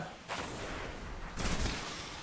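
Gunfire bursts from the Destiny video game, a sustained broadband roar of shots that swells loudly at two points, alone with no talk over it.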